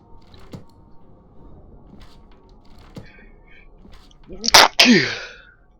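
A single loud sneeze bursts out near the end, preceded by a sharp intake, following quiet background clicks and faint room sounds.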